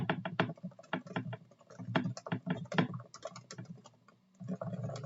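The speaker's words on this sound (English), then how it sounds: "Short typing test, yeah, why not?" Typing on a modded Realforce keyboard with CA-glued spacebar stabilizers and no right shift, a quick run of close, crisp keystrokes in irregular bursts, with a short pause before the typing resumes.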